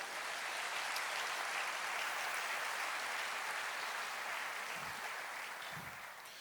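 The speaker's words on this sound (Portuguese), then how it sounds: "aplauda ao Senhor." A church congregation applauds steadily during a worship service, a dense, even wash of clapping that holds strong throughout and fades slightly near the end.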